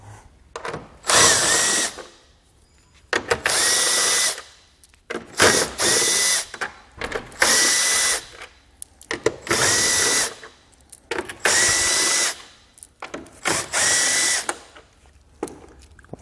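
A power drill backs 10mm bolts out of a 2015 Ford Explorer in about seven loud, close bursts of whirring with a ratcheting edge, separated by short quiet pauses.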